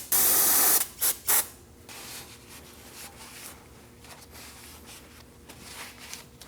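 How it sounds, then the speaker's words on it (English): Brake parts cleaner sprayed onto the rear brake assembly of a 2009-2017 Audi Q5, a loud close hiss lasting under a second followed by two short bursts, then quiet workshop background. "we're going to be using some brake parts cleaner."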